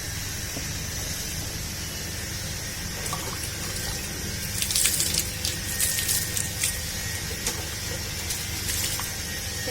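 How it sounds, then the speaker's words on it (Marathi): Tap water runs steadily while a pot is rinsed inside and out, a constant hiss of flowing water with brief splashes and clinks toward the middle as the stream hits metal. "सगळीतून असं धुवून घेते, वरून पण धुवून घेते"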